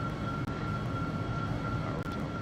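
Boeing 737 engines at takeoff power in the X-Plane 11 flight simulator, a steady, loud broadband roar with a sustained whine running throughout, alone without talk.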